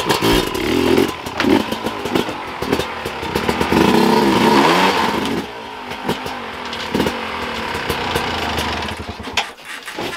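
A loud Sherco 300 enduro motorcycle engine revving and changing pitch repeatedly, close up, with rattling mechanical noise and wind throughout.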